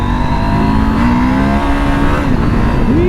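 A Husqvarna Norden 901 motorcycle engine pulls hard on a test ride, a loud, close, steady drone whose pitch climbs gradually, dips at a gear change near the end, then rises again.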